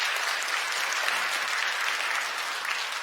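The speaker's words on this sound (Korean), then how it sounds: "여러분들 환영의 박수 부탁드리겠습니다." A church congregation at Sunday worship claps to welcome newly registered members, steady and even applause from many hands filling the room throughout.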